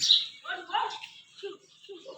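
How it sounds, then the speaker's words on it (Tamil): House sparrows around a home chirp in quick, bright little calls, a short cluster of close tweets followed by a few softer, scattered chirps. "எங்கள் ஏரியாவில் நிறைய சிட்டுக்குருவிகள்லாம் இருக்குது"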